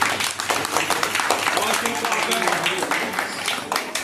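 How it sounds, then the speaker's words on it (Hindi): Clapping for children at a temple arts competition, a dense, fairly loud patter of many hands running throughout, mixed with voices talking in the room. "ताली बजाओ इनके लिए"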